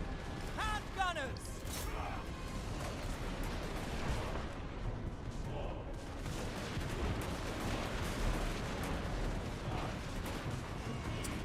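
Handgunner volleys crackle through a dense, continuous battle din in the Total War game, with Karl Franz's army fighting under heavy, steady noise while a voice talks over it.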